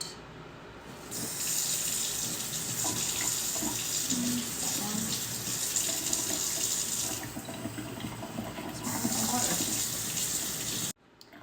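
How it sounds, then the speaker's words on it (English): Warm water runs steadily from a kitchen tap into a quarter-cup measure for homemade pizza dough, a continuous close splashing rush that dips briefly midway and then resumes before cutting off at the end. "you're gonna take 1/4 cup of warm water, lukewarm water."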